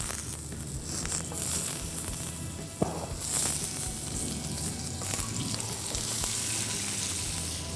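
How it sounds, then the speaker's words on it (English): Vegetables sizzle in olive oil on a hot grill pan, a dense, steady frying hiss with scattered pops and a sharp tap partway through, close and fairly loud, with no voices. "I'm going to heat up a grill pan, to which I'm going to add some olive oil. And now I'm going to grill the vegetables."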